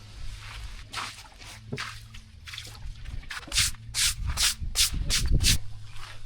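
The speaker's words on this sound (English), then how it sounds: "I'm going to use my acid mix to scrub it in there" A stiff brush scrubs an acid mix into a concrete surface in a run of rough, rhythmic strokes that grow quicker and louder toward the end, close by and without speech.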